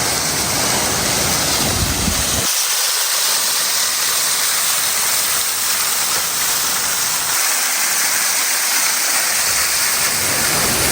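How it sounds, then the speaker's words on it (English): A waterfall roars steadily and loudly close by, a dense continuous rush of falling water with no pause, heard near the base during an outdoor fossil hunt. "I'm actually going to head over to the waterfall now, just before I head up, just to get a closer look."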